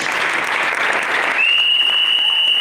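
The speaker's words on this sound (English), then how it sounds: "one big round of applause for the Honorable Minister's speech" A hall audience gives a loud, sustained round of applause after a minister's speech at a tourism and content-creation event; partway through, a steady high-pitched whine joins the dense clapping and holds to the end.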